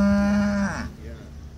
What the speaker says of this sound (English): Sussex cow and calf, vacating the ring